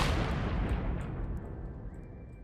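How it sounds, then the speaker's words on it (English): Several explosions go off at once in Minecraft, a loud booming blast that rolls off and fades over a couple of seconds, with faint glass breaking in the tail. "I'll be using like 4 explosion at the same time."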